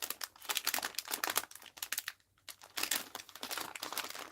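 A strong envelope is torn open up close, with dense crinkling and ripping paper in rapid bursts and a brief lull partway through.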